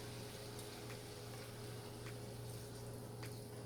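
Cabbage in a pan with a little water added gives a steady, faint hiss and bubbling that holds evenly with no pauses, alone and without talk.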